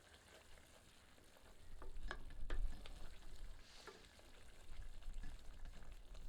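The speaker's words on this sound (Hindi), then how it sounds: "इसे ढककर 5 मिनट धीमी आंच पर पकाते हैं, पर रह रहकर करछी चलाते रहते हैं ताकि मसाला तली पर लगकर जले नहीं।" Masala for an egg curry fries in a pan on low heat while a ladle stirs it now and then, giving a soft, crackling sizzle with scraping strokes and occasional clacks against the pan, and no voices.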